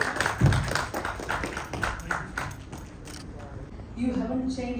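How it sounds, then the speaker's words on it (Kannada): Scattered hand clapping from an audience at a film teaser launch event, a burst of claps that thins out, with a voice speaking near the end. "ಚಪ್ಪಾಳೆ ಬರಲಿ, ದಯವಿಟ್ಟು ಚಪ್ಪಾಳೆ ಬರಲಿ."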